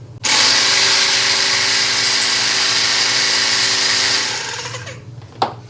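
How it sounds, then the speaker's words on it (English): A small portable air compressor motor runs loud and steady with a broad buzzing whine for about four seconds, then winds down and stops, followed by a single sharp clunk near the end. "I've got myself a nice little compressor."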